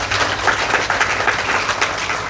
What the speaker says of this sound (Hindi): तालियों से स्वागत करिए ना